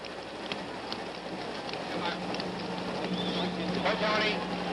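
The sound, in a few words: rain falling on the stadium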